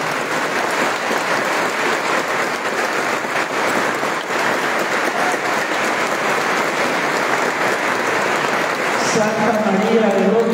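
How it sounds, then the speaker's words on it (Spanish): A church congregation applauds together for the Virgin of Dolores on her nativity feast, a dense, steady clapping that fills the whole stretch at close, even loudness before briefly thinning near the end. "Entonces le vamos a dar un aplauso de felicitación."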